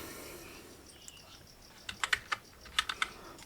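A handful of crisp computer keyboard keystrokes tap out a mobile number while filling an online form, quick irregular clicks arriving in two short bursts after a quiet start.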